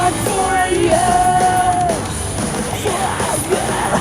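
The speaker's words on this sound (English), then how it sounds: "it's been a while since I heard some screaming, some emo screaming." Emo screaming vocals ring out from a live venue, loud and raw, with a yelled, strained voice over band noise and crowd sound, heard from within the room.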